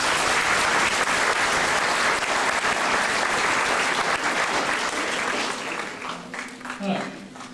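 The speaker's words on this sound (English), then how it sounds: "if you can give a round of applause for our next guest." An audience at a Toronto benefit event applauds for the next guest, a loud sustained wash of clapping that tapers off near the end as a voice begins.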